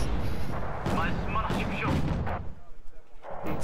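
Artillery barrage in the strategy game Wargame Red Dragon: several heavy booms and crackling impacts in quick succession, loud and close, fading toward the end, with a voice talking over them.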